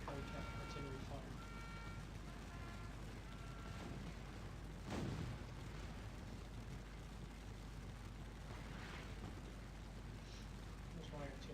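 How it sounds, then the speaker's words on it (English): Artillery fire in the Napoleonic battle game Scourge of War: Waterloo, a sustained rumbling din with one sharp, heavy boom near the middle over dense continuous battle noise. "Artillery fire."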